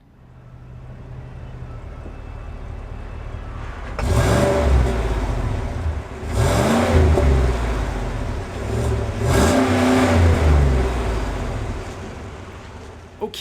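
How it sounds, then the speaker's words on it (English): A 2017 Cadillac Escalade's naturally aspirated V8 revs up three times in succession, each surge climbing and falling, heard up close over a steady idle rumble. "Okay, so it sounds good, naturally aspirated V8, awesome."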